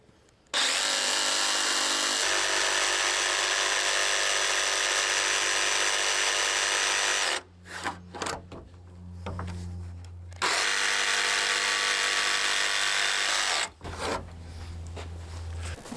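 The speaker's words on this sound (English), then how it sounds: "Now I'm just gonna probably jigsaw these out." A power jigsaw cuts window openings out of the wall of a salvaged mobile home, a loud continuous buzzing whine interrupted by short pauses and restarts, close and with no talking.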